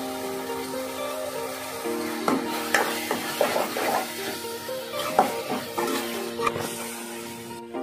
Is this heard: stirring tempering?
yes